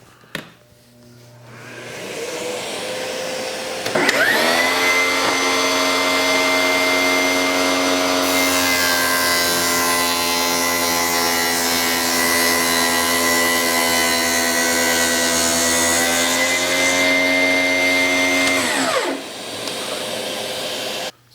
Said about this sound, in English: So let's first turn the dust collector on.